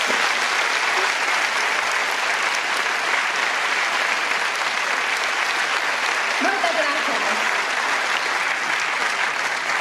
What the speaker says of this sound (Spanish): este primeiro aplauso é para eles